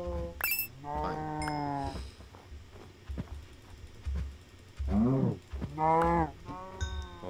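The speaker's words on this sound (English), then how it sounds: "Cow!" Cows mooing in the Hexxit Minecraft game, several drawn-out lowing calls in a row with short gaps, loud and close, no talk over them.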